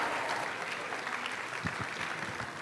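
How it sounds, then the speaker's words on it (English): A live audience claps loudly at the 2022 Best of the Capitol Live! show, applauding the emcees in a continuous, full round of clapping. "how about a huge round of applause for our MCs?"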